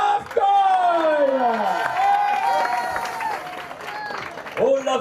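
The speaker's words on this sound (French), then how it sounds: "je vous demande d'applaudir Olaf Koy." A crowd claps and cheers for the stage winner at the Boucles de la Mayenne cycling race in Laval, a steady wash of applause under a loud announcer speaking French over the PA.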